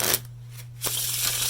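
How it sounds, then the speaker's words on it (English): Playing cards riffled up from the back of the deck, heard as two short bursts of dense, close, crisp fluttering with a brief quiet gap between them, over a steady low hum. "it's going to be the same concept where you're just riffling up from the back"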